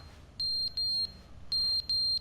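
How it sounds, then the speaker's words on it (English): A smoke-style fire alarm in The Stanley Parable: Ultra Deluxe Edition sounds in clear, steady high-pitched beeps, two long tones, a pause, then two more, alone with no talking. "Fire alarms going off?"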